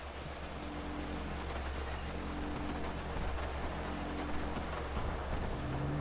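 Steady rain pours in GTA V Online, a dense continuous hiss with a low rumble underneath, even and unbroken with no talking.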